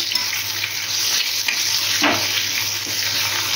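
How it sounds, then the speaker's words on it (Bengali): Bitter gourd slices frying in a pan give a steady, close hiss of sizzling oil, continuous throughout with a faint soft clatter partway through. "দিয়ে উচ্ছে ভাজাটা চাপিয়ে দিলাম"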